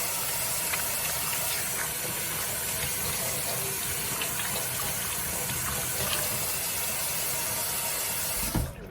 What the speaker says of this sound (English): Take your time to clean your hands before you handle any food